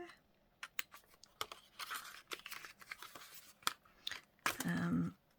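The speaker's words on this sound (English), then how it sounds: "Let's just cut that little piece." A craft knife slices through a small piece of paper in a run of short, close scratchy strokes and crisp rips, with light crinkling between cuts and a firmer tearing burst near the end.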